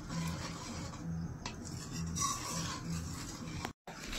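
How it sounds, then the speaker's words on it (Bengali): Milk boils down for kheer as a spoon steadily rubs and scrapes the pot, a soft rhythmic rasp under a low bubbling hiss. Quiet and close, it cuts out briefly near the end. "একটু ঘন ঘন তো নাড়তে হবে"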